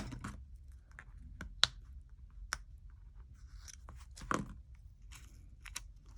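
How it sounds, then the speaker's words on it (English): A small scrap of paper is snipped off with scissors while working on a budget planner, giving a few crisp, close, quiet cuts spaced irregularly over a faint background. "This little piece right here I'm going to cut off."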